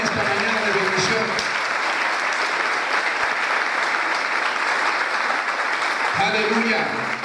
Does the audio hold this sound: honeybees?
no